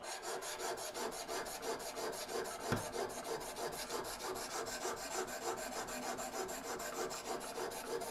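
Wet sanding with water-soaked 600-grit sandpaper, a steady, faint back-and-forth rasping rub repeating in an even rhythm, with no talk.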